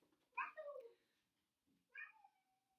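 A pet cat meowing indoors, two distinct drawn-out meows about a second and a half apart, fairly close but soft, with no talk over them.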